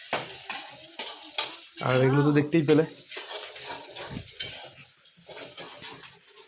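Food is stirred and fried in a homestay kitchen in the hills, with a sizzle, clinks and scrapes of utensils against a pan heard under a person talking.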